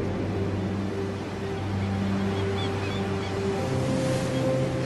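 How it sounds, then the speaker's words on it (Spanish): Sea waves wash in a continuous broad roar of surf, with a low steady hum and faint distant tones beneath the water noise. "Es el mar."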